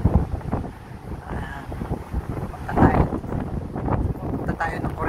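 Strong wind near the mountains of Hokkaido, Japan, buffets the microphone aboard a ship in heavy rumbling gusts while a person talks over the roar.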